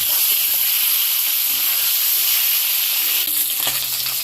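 Eggs fry in oil in a wok with a loud, steady sizzle and hiss, broken by occasional stirring scrapes close by, without talk.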